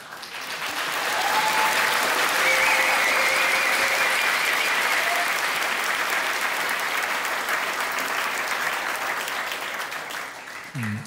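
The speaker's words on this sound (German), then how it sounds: "langen Applaus" Long, sustained audience applause at a political panel event on European class struggle, a steady loud roar of many hands that swells early and holds for over ten seconds before easing off.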